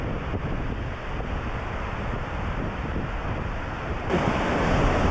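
Wailing Widow Falls in Scotland pours in a steady, broadband rush of falling water, loud and close, swelling slightly louder near the end with wind buffeting the microphone.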